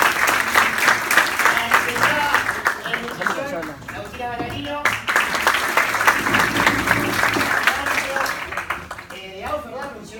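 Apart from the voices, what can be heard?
audience applause for speakers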